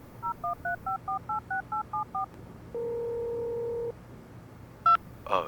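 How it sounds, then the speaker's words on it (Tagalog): A telephone number is keyed in as about ten short, evenly spaced touch-tone beeps, followed by one long steady tone and a few brief electronic blips, all clear and close in a quiet room. "Sige, tatawagan ko si Sir Mandy."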